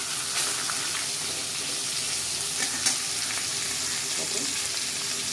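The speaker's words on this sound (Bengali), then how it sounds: "দেখো আমার মুড়োগুলো ভাজা হয়ে গেছে অলমোস্ট" Hilsa fish heads fry in a pan with onions, giving a dense, continuous close-up sizzle broken by occasional stirring scrapes and a small clink.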